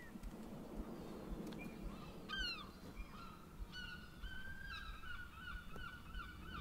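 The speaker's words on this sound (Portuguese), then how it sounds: "E vamos interagir com esse passarinho aqui." Bird honking in the video game Rime, several short goose-like honks and calls over a soft ambient bed, fairly faint and without talk.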